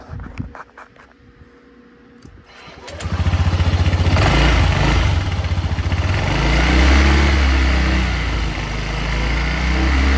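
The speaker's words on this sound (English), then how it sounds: "I'm going to rev it up a few times." A Honda ADV160 scooter engine starts with a few sputters, then revs up loudly and holds a strong, buzzing roar, rising and falling slightly.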